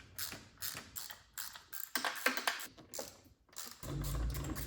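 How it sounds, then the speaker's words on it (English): Tools work on the 8mm intake bolts of a C5 Corvette, giving quiet, close, irregular metallic ratcheting clicks and taps in short bursts with small pauses, then a low steady hum at the end. No one speaks. "So I'm going to start by removing all of the 8mm bolts that are holding the intake down."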